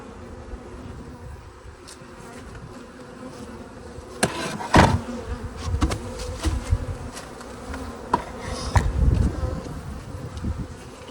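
Steady buzzing of many bees rushing back to their hives close by, a dense insect drone with louder passes swelling in and out, some faint engine noise underneath.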